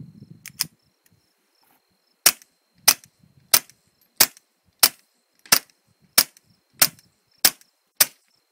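Ten sharp, evenly spaced suppressed .22 rifle shots with Remington subsonic ammunition through a TBAC suppressor, each a crisp clack about two-thirds of a second apart, following a brief rustle and handling noise.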